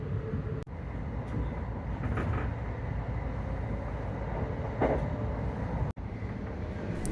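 NS ICNG intercity train cruising at about 100 mph through the Dutch countryside, a steady broadband rumble of wheels on rails with a brief dropout near the start and end.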